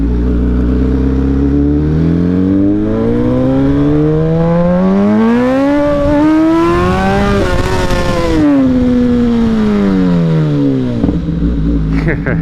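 A 2013 MV Agusta F4 motorcycle engine revs loudly and climbs through the gears up close, rising to a high wail and then dropping back, with a voice talking over it.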